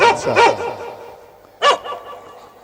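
A voice imitates a dog barking during a Hindu Ram Katha recitation: a quick pair of woofs, then a single bark after a pause, loud and close.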